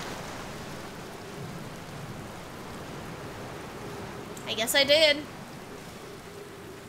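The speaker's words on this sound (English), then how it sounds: "that's rain!" Rain falls in Outer Wilds as a steady, quiet hiss, with a brief clear tone near the end. A voice talks briefly over it.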